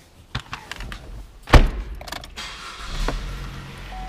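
A Chevrolet Cruze gives a few clicks and a heavy thunk, then its engine turns over and settles into a steady idle, heard close by.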